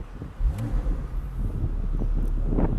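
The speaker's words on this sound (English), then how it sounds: "Let me just start it up as well so you can just hear the engine starting up" The engine of a 2016 Porsche 911 or 718 Boxster cranks and catches at close range, then settles into a steady, rising idle rumble, with no talking over it.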